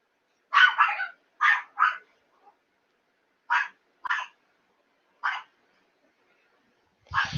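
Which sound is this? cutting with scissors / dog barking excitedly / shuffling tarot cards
dog barking excitedly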